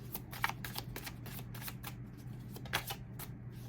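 Tarot cards are shuffled by hand, soft rapid riffling flutters in quick bursts with brief pauses, close and quiet over a faint low hum.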